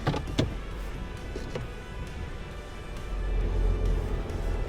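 An Isuzu MU-X or Ford Everest Tremor SUV climbs a hill on crawl control in low range with no diff locked, wheels spinning: a low, rising engine and drivetrain rumble with a few sharp clicks early, heard from inside the cabin.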